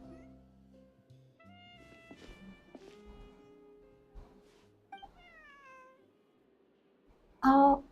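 A cat meowing in the video game Genshin Impact, a short loud meow near the end after quieter game music and tones.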